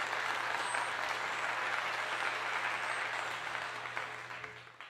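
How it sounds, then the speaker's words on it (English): An audience breaks into sustained applause at a talk, a dense wash of clapping that holds steady and then begins to taper off toward the end. "Round of applause for that."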